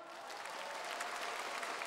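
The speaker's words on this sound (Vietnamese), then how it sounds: "Một tràng pháo tay nồng nhiệt nữa cho Hà Lộc" A large audience applauds a dancer at a televised gala final, with dense, steady clapping that stays fairly faint and distant throughout.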